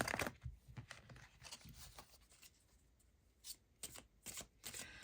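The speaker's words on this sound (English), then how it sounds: "let's get some more tarot cards from the Halloween Tarot." Halloween Tarot cards are shuffled and drawn close up, with quick riffling and flicking bursts broken by softer pauses and single card snaps, no voices.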